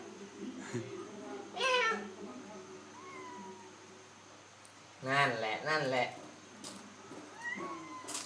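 A cat eating seaweed gives several short meows and drawn-out mewing calls in bursts, near and clear, while a person talks softly between them.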